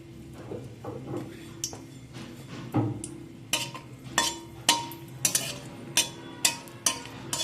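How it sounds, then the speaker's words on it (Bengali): Two dried red chillies crackle in hot oil in a kadai on a gas stove, with sharp irregular pops and spatters growing more frequent, plus a few utensil clinks. "তেলের মধ্যে দিয়ে দেবো 2টো শুকনো লঙ্কা"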